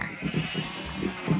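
Sheep bleat in a blocky sandbox video game, several short wavering bleats overlapping in quick succession over a steady background hum, with no talk.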